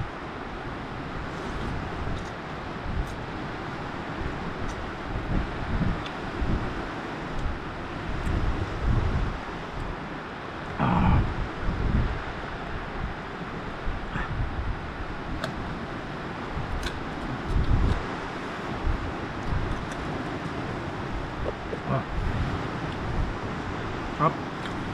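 Strong gusty wind buffets the microphone during a solo day backpacking trip, a steady roar with louder rushes that rise and fall throughout, heard alone without talk.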